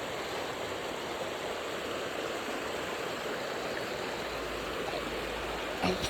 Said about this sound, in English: they're little creeks off of the mountain